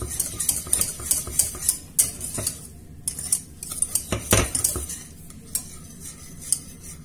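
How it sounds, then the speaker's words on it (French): A spoon scrapes and clinks steadily against a saucepan while lemon cream thickens over heat, a quick repeated metallic stirring rhythm, close and clear with no talk. "il faut rester devant la casserole à touiller"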